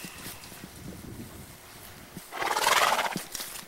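A horse being fed bundles of grass gives a loud, close neigh near the end, after quieter shuffling and hoof sounds, with no one speaking.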